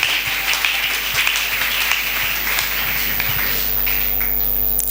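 A church congregation applauds together in dense, sustained clapping that stays loud and fairly even throughout, with no speech over it.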